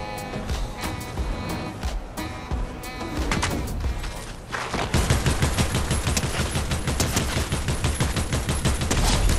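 Rapid automatic gunfire from a Fortnite match, scattered shots at first, then a dense, sustained burst of loud bursts that continues to the end, with no talking.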